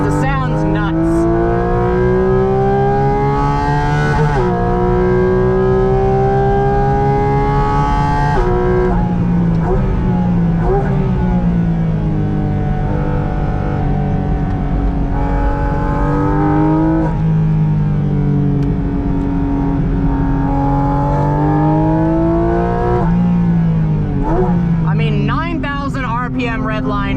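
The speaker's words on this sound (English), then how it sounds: "Redline, naturally aspirated flat six with those air intakes right behind my head." A Porsche GT4 RS on track, its naturally aspirated flat-six revving hard toward redline with the intakes right behind the driver's head, loud and close throughout, with rising and falling engine tones across repeated gear changes and talk over it.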